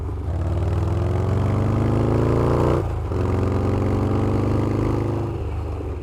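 Harley-Davidson Evo FatBoy V-twin engine pulling hard under acceleration, a loud, steady rumbling drone with rising pitch sweeps, a brief dip near the middle as it shifts, then climbing again.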